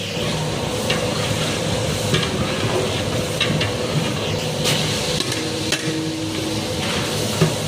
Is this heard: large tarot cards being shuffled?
no